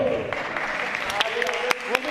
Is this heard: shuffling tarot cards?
no